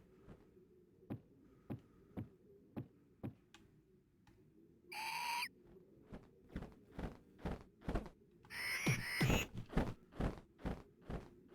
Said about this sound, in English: Crazy bird.